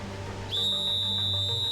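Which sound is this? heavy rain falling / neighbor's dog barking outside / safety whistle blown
safety whistle blown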